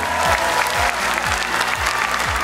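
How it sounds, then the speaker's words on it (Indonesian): Loud, dense applause from a large television talent-show audience at the Indonesia's Got Talent 2022 grand final, cheering for Pak Seman, steady and continuous throughout with a low rhythmic music pulse beneath. "Kita kasih tepuk tangan yang meriah sekali untuk Pak Seman."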